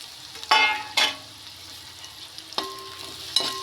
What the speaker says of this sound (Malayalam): ഇളക്കി കൊടുക്കണം.